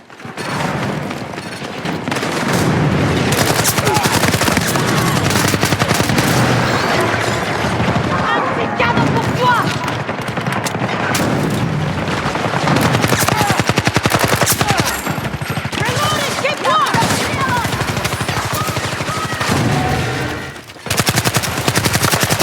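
Sustained rapid video game gunfire, some suppressed, with booming explosions, dense and loud, interrupted briefly near the end; voices occasionally mixed in.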